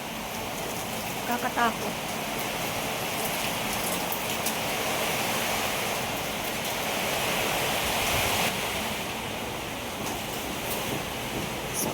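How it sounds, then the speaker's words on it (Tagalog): Sudden heavy rain pours down in a steady, broad hiss, with one brief spoken remark partway through and a few faint sharp sounds in the background. "Biglang bumuhos ang malakas na ulan."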